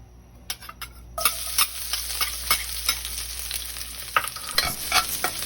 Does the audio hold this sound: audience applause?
no